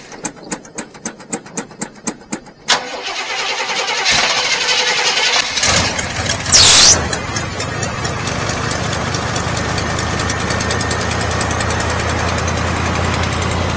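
A carbureted 454 big block V8 with a manifold leak cranks over in quick rhythmic bursts, catches and fires, then settles into a loud, steady rough idle close by.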